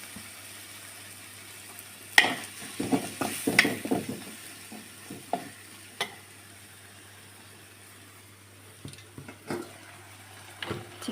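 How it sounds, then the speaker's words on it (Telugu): Ingredients for chicken pulao frying in a pan, with a low steady sizzle broken by a cluster of sharp scraping and clattering stirring strokes, then scattered occasional knocks against quieter frying. "ఇలా బాగా ఫ్రై చేసుకోవాలండి."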